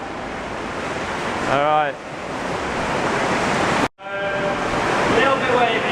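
Choppy water slaps and rushes against a small boat in a steady loud wash with wind buffeting, broken briefly near the end; a person speaks once over the noise.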